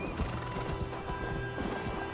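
A horse in the video game Assassin's Creed Valhalla whinnies as its hooves clop in a quick, uneven rhythm, fairly close, set over a steady ambient game background.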